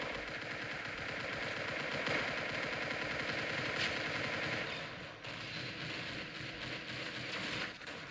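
Rapid automatic gunfire from guns in the Roblox game Arsenal, a continuous dense rattle of game shots running the whole time at moderate level, with no talking.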